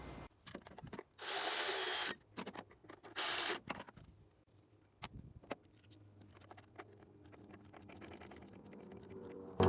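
Tool work on the cam sensor bolt of a 2001-2005 Honda Civic, with two loud bursts of mechanical whirring followed by scattered clicks, taps and handling noises nearby.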